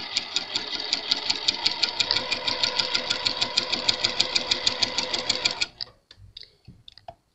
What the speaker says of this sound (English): I'm lining my foot up with this diagonal line, and then I'm just going to stitch down.